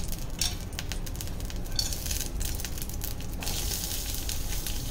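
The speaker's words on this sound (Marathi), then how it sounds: "लसूण कांदा लाल होईपर्यंत परतून घ्यायचं आहे।" Garlic and onion fry in about a spoonful of oil in a kadhai, a steady close sizzle with bursts of crackle and stirring scrapes, with no voices.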